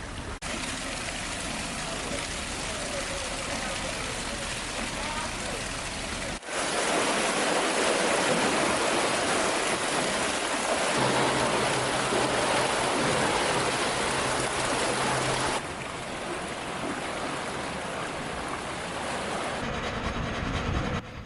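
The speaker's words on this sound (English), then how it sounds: "The lock gates open and let in 67 billion tons of engine-stopping duckweed." Water rushes into a lock on the Dismal Swamp Canal as the gates open, a steady broadband roar that swells louder midway and then eases back, continuing throughout.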